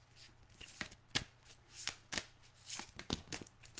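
A deck of Breathe Easy oracle cards being shuffled by hand in a quiet room, with repeated riffling bursts and soft card slaps in an irregular rhythm, close and fairly soft.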